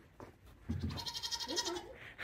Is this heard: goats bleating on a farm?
yes